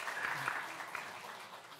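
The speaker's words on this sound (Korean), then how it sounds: "박수 한번 쳐주세요" A church congregation applauds during a Sunday service, a soft, dense patter of many hands that stays fairly even and then eases slightly, heard from a distance.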